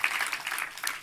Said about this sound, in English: Let's get another round of applause for all the pieces that have been shown so far